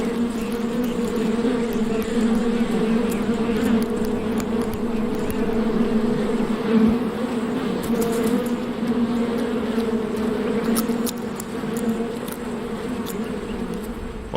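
A dense swarm of male bees buzzes in the Sonoran Desert, a loud, steady droning hum with occasional closer fly-bys, no voices.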